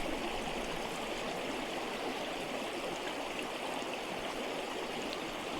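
A small creek flows steadily by a little bridge, giving a continuous broadband rush and trickle that is moderately close and even, with no voices.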